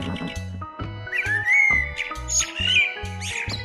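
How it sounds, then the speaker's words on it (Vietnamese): A hornbill gives rising whistled calls and a harsher squawking note, fairly close and loud, over a steady rhythmic music beat. "Chim hồng hoàng."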